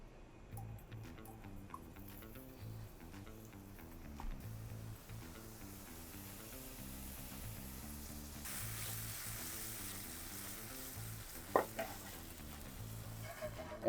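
Romanesco heats in a pan during a cooking demo. A faint sizzle is heard over a soft rhythmic background, growing into a louder hiss in the second half, with a few light clinks.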